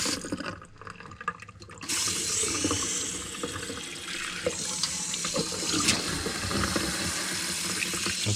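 Water rushes through campervan plumbing lines hooked up to city water, starting with a sputtering gush and then settling into a loud, steady flow with occasional splashes and knocks.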